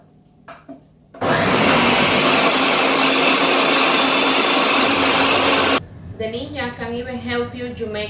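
A Ninja blender runs at medium speed with a loud, steady motor roar that starts abruptly and holds for several seconds before cutting off, then a person talks once it stops.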